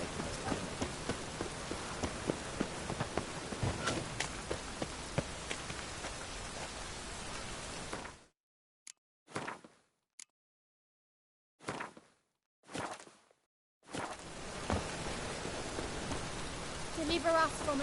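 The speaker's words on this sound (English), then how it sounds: "Rain was coming." Steady, dense rain falls in The Witcher 3: Wild Hunt. It cuts to near silence midway, broken by a few short bursts, then the downpour returns at full strength.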